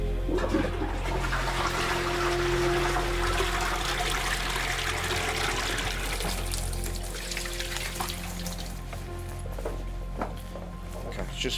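Water flushes and gushes as a sick bowl is rinsed out by a paramedic, a loud continuous rush that slowly tapers to trickling, with voices talking faintly underneath.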